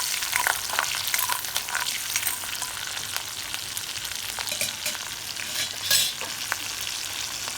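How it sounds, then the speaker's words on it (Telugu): Ginger pieces and green chilies sizzle and fry in hot oil in a pan, a steady crackling hiss with occasional stirring scrapes, close and continuous with no voices. "అల్లం ముక్కలు వేగిన తర్వాత ఇవి పచ్చిమిరపకాయలు వేసేసుకుంటున్నాను"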